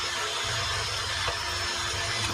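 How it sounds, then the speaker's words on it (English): A power drill grinds steadily through the metal of a sandblaster tank, a close, continuous whirring hiss with no breaks. "So now I got to drill a hole"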